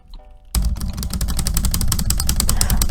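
Fast, continuous keyboard typing that begins abruptly after a quiet moment, rapid clacking keystrokes up close and loud over a low background rumble.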